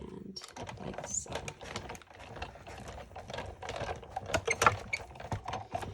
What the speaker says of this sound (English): now we're just going to run that through the die cut machine, or the embossing machine